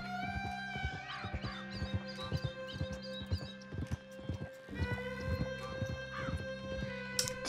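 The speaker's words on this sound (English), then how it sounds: "That's my horse, Bruta." A horse in the Red Dead Redemption 2 video game clip-clops along at a steady walking rhythm, with a snort or whinny mixed in and faint game ambience beneath.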